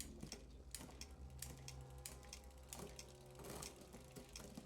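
Bicycle rear derailleur shifting up and down through the gears on a repaired, previously smashed derailleur and hanger, giving a run of small mechanical clicks and ratcheting ticks against a steady background hum, fairly close and without speech.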